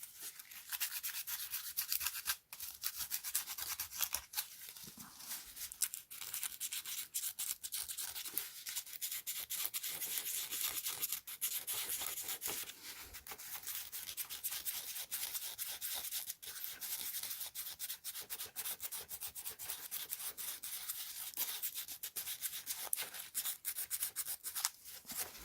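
Close, continuous scratchy rubbing of 180-grit sandpaper against a 3D-printed art toy, with steady back-and-forth strokes running throughout without pause.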